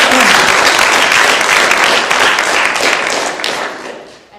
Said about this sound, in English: So you guys give yourselves a round of applause for hiking.